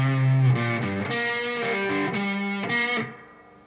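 An electric guitar with distortion plays the opening three parts of a solo at full speed, a quick run of bending, shifting notes that ends with a drop in level.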